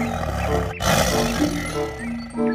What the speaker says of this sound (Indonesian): Ternyata ini hewan harimau